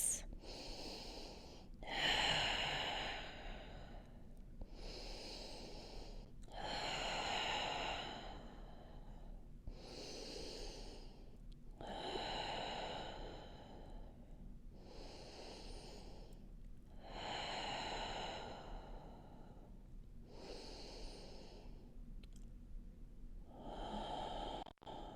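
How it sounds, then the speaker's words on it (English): Slow, deep breaths taken in yoga child's pose for low back pain, about nine long inhale-exhale cycles in a steady rhythm, close and fairly soft, with no talking. "Take 5 deep breaths."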